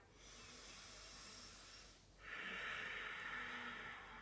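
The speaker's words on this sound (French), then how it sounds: "J'essaye de faire un petit bruit avec l'arrière de ma gorge, de façon à ce qu'on sente l'air qui passe par un petit trou dans la gorge." A throaty yoga breath drawn at the back of the throat, a soft, steady hiss in two long strokes, close and quiet, with no talking.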